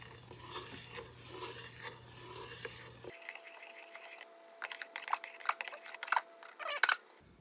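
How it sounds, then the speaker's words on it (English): Hot chocolate ingredients and powders stirred together in a pot, giving close, scraping and rubbing strokes in an irregular rhythm that grow louder and more clattery toward the end, with no talking. "So just start bringing and stirring all these ingredients together."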